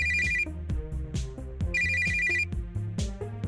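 An in-game phone rings during a call in the video game Always Sometimes Monsters, two repeated electronic ring bursts with a steady melodic jingle between them, loud and clear with no talk.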